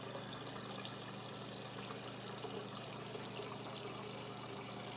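Water running from a Frigidaire refrigerator dispenser while a new PureSource 3 filter is purged, a faint steady hiss of flowing water that continues unbroken throughout.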